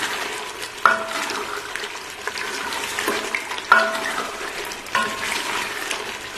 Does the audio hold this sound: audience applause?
no